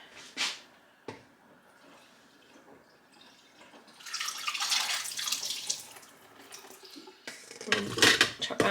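Water from thawed frozen food pours and drains into a kitchen sink, starting as faint trickles and knocks, then swelling into a louder splashing gush that rises toward the end.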